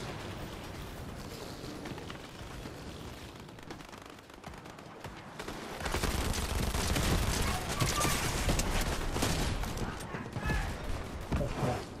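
SMG fire in the game Fortnite: dense, rapid gunfire bursts rattling over about twelve seconds, quieter at first and then louder and more continuous from the middle onward, with a voice talking over it.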